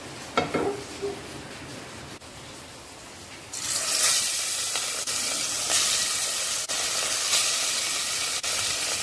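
Fresh katla fish slides into hot oil in a wok, and a loud, steady sizzle and hiss erupts and carries on with crackles, after a quieter stretch of low kitchen background.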